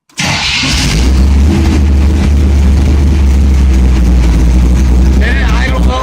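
Chevrolet Camaro engine cranks and fires after a brief starter whir, then settles into a loud, deep, steady idle with a faint rising whine and a voice speaking over it.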